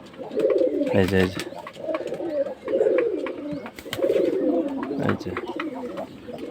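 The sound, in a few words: pigeons cooing in the morning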